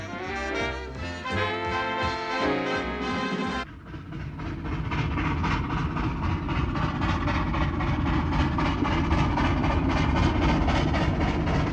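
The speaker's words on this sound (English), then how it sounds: "3801 with a Newcastle flyer" Steam locomotive 3801 hauling a Newcastle flyer runs with a loud, continuous rumble and clatter after a short tonal opening, no speech over it.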